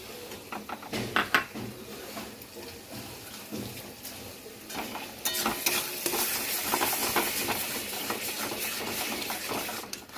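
Beaten sour yogurt going into frying spice paste for a Bengali chicken kosha, with a soft wet sizzle, scraping spoon strokes and clinks against the pan that grow busier and louder partway through.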